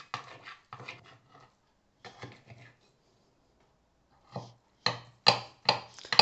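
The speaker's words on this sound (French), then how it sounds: "Donc, on va couper ce gâteau." A knife slicing through an apple cake, giving a series of short, crisp cutting and scraping strokes in two bursts separated by a quiet pause, the later strokes louder and closer.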